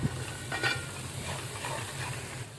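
Spices and chopped coriander are stirred as they fry in a pan at home, giving a continuous crackling sizzle. Scraping strokes of the spoon come through at a moderate level, with no voices.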